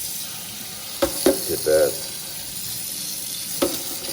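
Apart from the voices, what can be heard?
rinsing a Whirlpool dishwasher filter under running tap water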